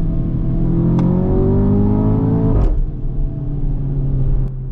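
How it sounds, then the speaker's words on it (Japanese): An Audi TT coupe at full throttle on a public road, its engine note climbing steadily through the revs before a sharp gear change, then pulling hard again. The sound is loud, close and continuous. "ここら辺でフル加速テストをしてみましょうか。"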